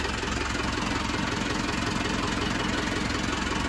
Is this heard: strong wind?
no